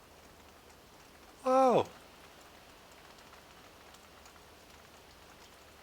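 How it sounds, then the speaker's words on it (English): Steady rain hisses across the whole scene in Farming Simulator 2013, with a short surprised exclamation from a man partway through. "did we just never witness rain in this game?"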